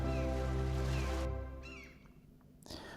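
A small, shivering kitten meows on a cold autumn evening, a few high plaintive cries over a sustained musical bed that fades out midway, leaving quieter background.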